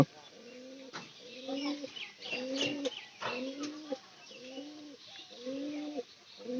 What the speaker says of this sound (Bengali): পায়রা ডাকতেছে